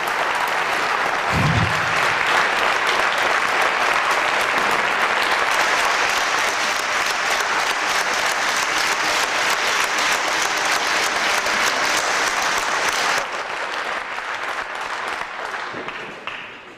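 An audience at a debate breaks into loud, dense applause that holds steady for several seconds before thinning out and fading at the end.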